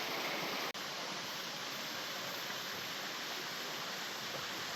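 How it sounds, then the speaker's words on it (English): Steady, full-bodied roar of a waterfall cascade on Stinger Creek in Border Ranges National Park, loud and close with unbroken rushing water throughout. "Another nice waterfall."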